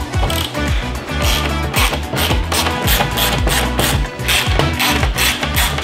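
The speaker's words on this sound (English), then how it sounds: "Now we just have to remove all of these screws around." A T15 driver backs screws out of a New Edge Mustang gauge cluster, making rapid, continuous ratcheting clicks close up with no talking.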